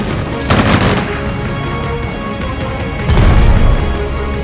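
Loud, dense gunfire and explosions in the video game Strategic Mind: Fight for Dominance, continuous rapid shots with heavier blasts swelling at the start and again near the end.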